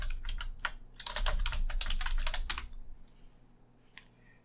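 Someone types a password on a computer keyboard in quick irregular bursts of close key clicks lasting about three seconds, then the clicking stops apart from a few faint taps.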